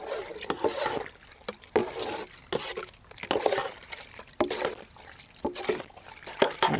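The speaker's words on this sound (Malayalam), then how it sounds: "ഇതാണ് കസ്റ്റാർഡ് പൗഡർ, നമുക്കിത് ഒന്ന് നല്ലപോലെ കലക്കിയെടുക്കണം" Custard powder is stirred into milk in a small bowl, making a steady run of rhythmic liquid swishes and light scrapes that repeat quickly and fairly close.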